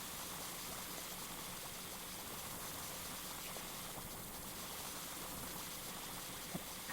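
Steady broadband hiss of a pressure washer spraying water in PowerWash Simulator 2, a continuous even rush with no breaks, one faint click near the end.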